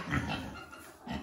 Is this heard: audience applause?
no